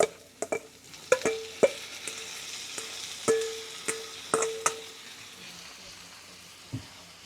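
Peas and carrots go into a pan of frying onions and garlic: a low sizzle sits under a run of sharp utensil clicks and taps on the pan, close up, with no speech.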